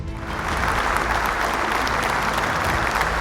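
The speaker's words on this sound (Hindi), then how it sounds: "सो जोरदार तालियों से स्वागत करिए मिस्टर प्रभंजन बाग एंड उनकी डॉटर मिस चेल्सी बाग का।" Loud, dense applause from an audience welcoming a quiz team at a family Bible quiz semi-final, a steady wash of many clapping hands lasting throughout, with no voices.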